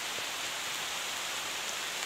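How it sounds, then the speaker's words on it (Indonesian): Steady rain falls by a river during a fishing trip, a dense even hiss of drops with no breaks, moderately loud and alone. "Hujan ya."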